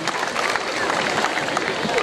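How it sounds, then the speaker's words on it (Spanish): An audience at a town milk festival applauds for Guadalupe Lanati, heard as dense, steady clapping from a crowd filling the whole moment, fairly loud, with voices mixed into it. "El aplauso para Guadalupe Lanati."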